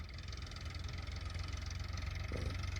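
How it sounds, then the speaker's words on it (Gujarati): A farm tractor engine runs at a steady idle during sowing work, a low, even, pulsing throb that stays close and continuous throughout. "પછી અત્યારે આ ટ્રેક્ટર આવી ગયું છે"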